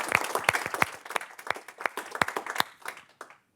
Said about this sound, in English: maybe we can just applaud the folks that have joined